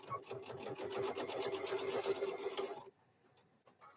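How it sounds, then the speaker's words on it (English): A sewing machine runs steadily, stitching fabric for a microwave bowl koozie with a fast, even mechanical whir that stops abruptly near the end, leaving quiet room sound. "We're going to keep a stitching. Just keep stitching."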